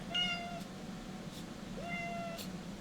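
A cat meows twice, drawn-out and fairly clear, over a low steady background hum.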